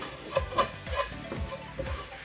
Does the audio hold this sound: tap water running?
no